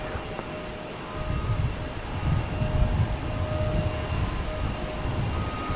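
An American Airlines Airbus A321 jet departs Salt Lake City in light rain, a distant broad roar building gradually and holding steady, with a faint tonal hum in the background and no talk.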